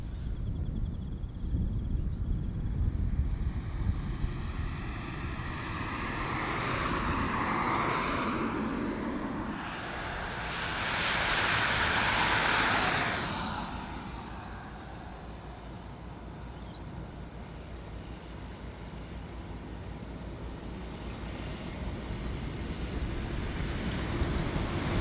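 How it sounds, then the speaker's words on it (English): A Virgin Australia Boeing 737-800 departs Melbourne Airport, its jet engine roar swelling from a distance to a broad rushing peak, then fading to a steady low rumble of the outdoor airfield. "Sneaking out behind the Cathay is a Virgin Australia 737-800 departing off to Launceston as VA 1368."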